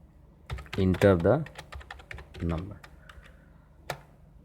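Typing on a computer keyboard, a scatter of quick key taps mixed in with a person talking close by.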